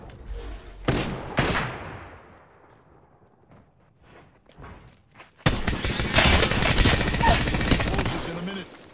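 Bursts of game gunfire in Apex Legends, two sharp shots early, then faint scattered pops and a sudden heavy sustained barrage of rapid fire filling the last few seconds.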